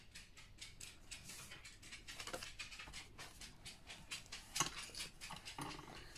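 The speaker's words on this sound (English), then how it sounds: "Now that is my dog, you can definitely hear that one, her little tippy tappy toes." A dog's claws patter lightly and quickly across a hard floor, a faint scatter of taps over quiet room noise.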